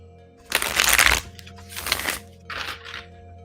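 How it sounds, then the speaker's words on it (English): A tarot card deck being shuffled close by in three quick papery bursts, the first longest, with short pauses between and no talking. "I'm gonna shuffle my deck, get it all warmed up."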